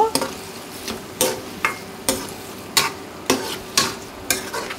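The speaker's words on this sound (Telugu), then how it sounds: "ఈ టమాటా ముక్కలు కూడా బాగా కలిసే విధంగా కలుపుకోవాలండి గరిటెతో." A ladle stirs tomato pieces in a pan for a home-style brinjal chicken tomato curry, producing a steady series of about eight scraping, clattering strokes over a soft sizzle, close and fairly loud.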